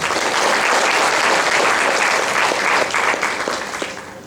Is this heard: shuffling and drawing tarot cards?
no